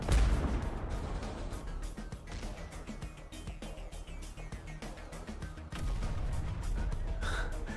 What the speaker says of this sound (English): you couldn't see the turret firing